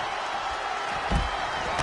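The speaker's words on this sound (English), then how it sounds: "The sound of this crowd is deafening, and he's asking for more." A roaring arena crowd in the WWE 2K wrestling game, a dense continuous cheer with a brief impact near the middle, heard under a commentator's voice.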